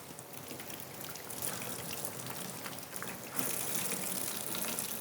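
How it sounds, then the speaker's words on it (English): Soapy water gushing and dribbling as a Caberg Flyon motorcycle helmet liner is squeezed out, a steady close splashing stream that grows louder partway through. "Then give it a good squeeze."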